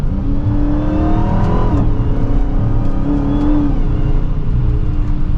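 A 2023 Dodge Charger SRT Hellcat Widebody Jailbreak accelerates hard, its loud engine climbing in pitch with quick gear shifts dropping the tone between pulls, heard from inside the car without talk.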